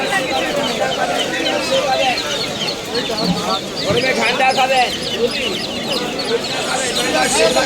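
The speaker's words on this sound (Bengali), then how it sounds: "সব মুরগির বাচ্চা দেখো" Chicks at a busy Kolkata bird market, where ducklings and quail chicks are also sold, make dense, overlapping high chirps and peeps over the chatter of a crowd.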